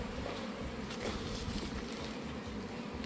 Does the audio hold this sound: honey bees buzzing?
yes